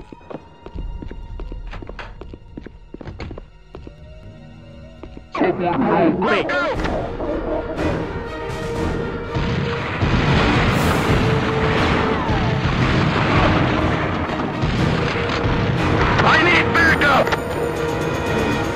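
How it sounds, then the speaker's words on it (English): Shotgun blasts in the PS2 action game Dead to Rights: after a quiet stretch, heavy booming shots and rumbling in-game combat fill the scene, loud and dense, with the player talking over parts of it. "let me hit them with the shotgun"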